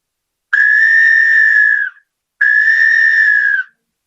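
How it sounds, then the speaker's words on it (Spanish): Two long, steady blasts from a triple ceramic whistle, loud and close, separated by a brief pause, each with a bright, slightly breathy multi-toned quality. "Es un silbato que da 3 sonidos."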